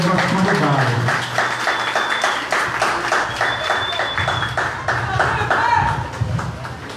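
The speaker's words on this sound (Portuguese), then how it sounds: "Então eu vou pedir todo mundo para dar uma salva de palmas para a gente receber todas as convidadas." An audience applauds to welcome guests at a political event, with steady, full clapping from a crowd throughout, some voices mixed in beneath.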